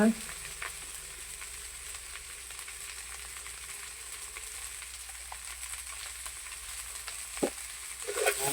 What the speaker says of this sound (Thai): ผัดไปเรื่อย ๆ